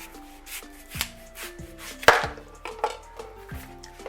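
A knife cutting the tips off a watermelon, heard as a series of firm, close chopping thuds against a board, roughly one every half second, with one louder sharp cut in the middle.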